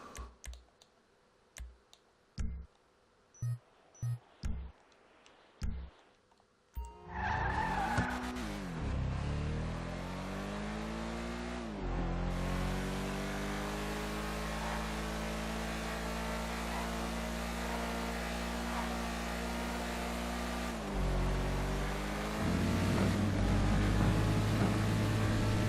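Mouse clicks and keyboard taps are followed by a car in GTA Online starting up and driving, its engine droning steadily and rising in revs over long stretches, with tire noise near the end.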